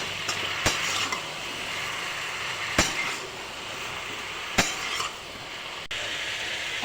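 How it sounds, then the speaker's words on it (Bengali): Pumpkin greens being stirred in a pan with salt and turmeric, a steady soft sizzle under a few sharp utensil clacks against the pan, close and alone without talk. "এখন সামান্য নুন আর হলুদ দিয়ে নাড়াচাড়া করে নিচ্ছি।"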